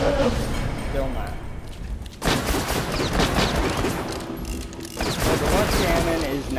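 Repeated cannon fire from a luck cannon weapon in the shooter game Borderlands: The Pre-Sequel, loud bursts of gunfire clattering in dense volleys, with voices talking over the shooting.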